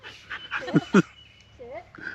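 A dog by a fishing spot gives a couple of short barks and whimpering yips up close, mixed with nearby human voices.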